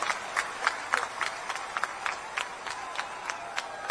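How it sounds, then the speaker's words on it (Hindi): Crowd at a political rally in Chhattisgarh claps in welcome, a steady, fairly distant wash of applause with scattered louder claps throughout. "एक बार जोरदार ताली बजाकर उनका स्वागत करें"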